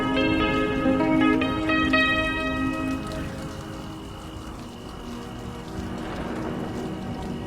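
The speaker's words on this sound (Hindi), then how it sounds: "बारिश हो रही है" Steady rain falls on a surface at night around a car stranded with its key locked inside, a dense continuous patter that is loudest early on and then eases slightly, with no voices.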